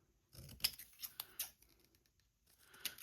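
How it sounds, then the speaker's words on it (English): Scissors trimming a colored paper ticket at a craft table, a quick run of crisp snips close and quiet, then a pause and one more cut. "I'm just gonna trim this down."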